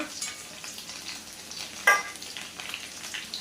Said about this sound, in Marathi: आता सासम पटपट्टे राहिले. त्यात लसूण घालया.